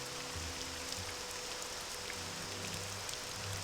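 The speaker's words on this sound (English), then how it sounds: "It's raining." Steady rain falling on a palace courtyard in a fantasy video game, an even, soft hiss of drops on stone heard alone at low volume throughout.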